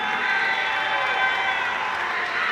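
A crowd applauds a fighter named Christopher after a 135-pound Muay Thai title match, a dense, continuous wash of clapping and cheering that holds steady and loud throughout.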